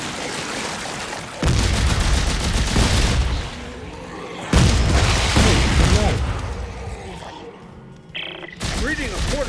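Rivet Gatling gun and rocket launcher firing in the video game Dead Space 3, loud bursts of rapid gunfire and booming blasts in several long volleys separated by short pauses, close and dense.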